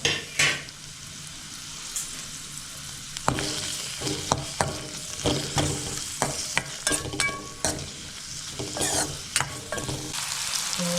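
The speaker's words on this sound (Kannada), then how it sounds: "ಸ್ವಲ್ಪ ಎಣ್ಣೆ, ಸ್ವಲ್ಪ ಈರುಳ್ಳಿ, ಸ್ವಲ್ಪ ಚಕ್ಕೆ ಹಾಕಿ ಸ್ವಲ್ಪ ಹುರ್ಕೊಳ್ಬೇಕು. ಫ್ರೈ ಮಾಡ್ಕೊಳ್ಬೇಕು." Onion and cinnamon fry in oil as a tempering in a village kitchen, with a constant sizzle broken by repeated scraping and clattering stirs of a spoon against the pan.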